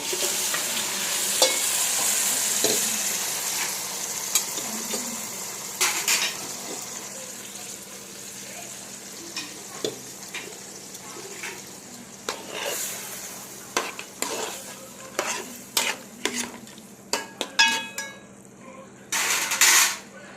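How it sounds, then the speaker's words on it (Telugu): Mutton pieces sizzle and fry in ginger garlic paste for a curry, a steady hiss with repeated sharp scrapes and clatters of a spoon stirring the pan. "ఇప్పుడు ఇందులో మటన్ వేసేస్తాం."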